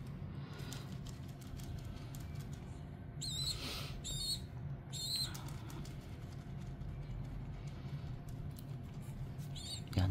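A baby pigeon chick hand-fed with a pump gives thin, high squeaky begging peeps in short separate bursts, faint against low background rumble and rustling.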